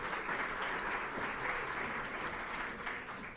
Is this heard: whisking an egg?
no